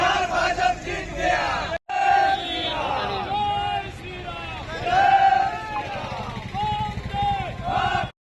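Party workers gather at Bhidbhanjan Mahadev Chowk in Bhavnagar for a BJP election-victory celebration, raising loud shouted slogans in a dense crowd, rhythmic bursts of chanting overlapping with general crowd noise throughout.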